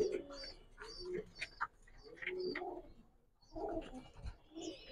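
Pigeons coo at a Bangladeshi pigeon farm where large fancy breeds are kept, soft repeated low calls near and far with someone talking over them.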